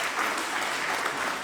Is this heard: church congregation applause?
yes